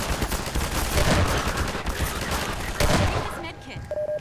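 Dense, continuous gunfire from the video game Half-Life 2 during a firefight, rapid overlapping shots that stay loud for about three seconds, then thin out and give way to quieter game tones at the end.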